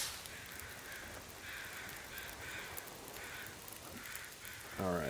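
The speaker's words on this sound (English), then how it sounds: "we got tons of crows" Crows in the video game The Long Dark caw in repeated harsh calls at a steady rhythm over a constant noisy background. The sound is moderately distant and is followed at the end by a brief rustle.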